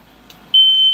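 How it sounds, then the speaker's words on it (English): A smoke alarm in a son's room, set off by smoke from burnt bacon in an air fryer, suddenly starts a loud, steady, piercing electronic tone that continues unbroken after a quiet room. "Fire alarm's in my son's room."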